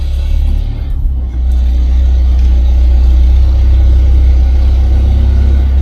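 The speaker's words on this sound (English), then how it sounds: "I hear my dad coming up the road with the tractor." A tractor driving up a rural road, a loud steady low engine rumble that holds and grows fuller as it comes nearer, with no voices.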